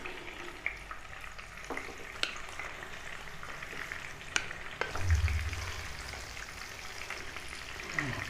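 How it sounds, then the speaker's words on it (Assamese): Jackfruit pieces frying in hot oil, a steady close sizzle with a few sharp utensil taps and a brief low rumble midway. "এইখিনি মই এনেদৰে তেলত দি ল'ম।"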